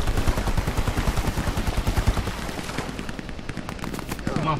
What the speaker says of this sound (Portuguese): Opa, alguém tomou tiro.